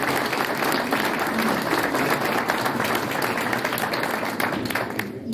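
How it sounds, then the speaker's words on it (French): Sustained applause from a crowd at a festival reception in Saint-Saturnin, dense clapping holding steady for several seconds before thinning slightly at the end. "je crois qu'on peut l'applaudir"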